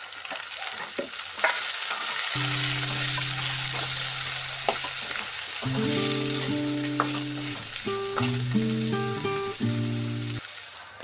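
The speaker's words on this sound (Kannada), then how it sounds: "ಈರುಳ್ಳಿ ಟೊಮೆಟೊ ಇದನ್ನು ಹಾಕಿ ಸಣ್ಣ ಉರಿಯಲ್ಲಿ ಫ್ರೈ ಮಾಡ್ಕೋಬೇಕು" Onion, tomato and green chilli frying on a low flame, a steady close sizzle with stirring, joined midway by sustained melodic tones layered over the cooking.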